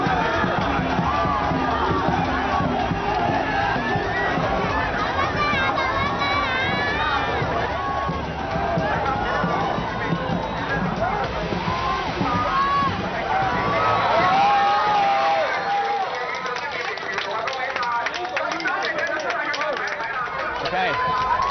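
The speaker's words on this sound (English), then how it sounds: "Everyone's celebrating and clapping." Spectators at a Hong Kong dragon boat race cheer, whoop and shout in a large, continuous crowd roar, with people talking over it before the noise thins toward the end.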